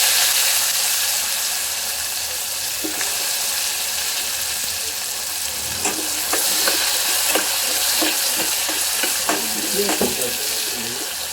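Onion and tomato frying with curry leaves in a pan, a loud, constant hiss of sizzling oil with rhythmic scraping stirs growing more frequent toward the end.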